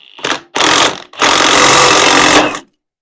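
A power tool drives a harmonic balancer puller to pull a dirt bike's motorcycle flywheel. It comes in three loud, close bursts: two short ones, then a longer steady whir lasting over a second before stopping.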